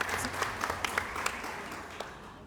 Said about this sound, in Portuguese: nós temos que participar e aplaudir realmente de pé essa equipe maravilhosa